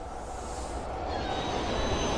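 A train barrels toward a closed station at night in the Twilight Syndrome video game, a steady, low, rushing roar with a faint high whine that grows slightly louder as it nears.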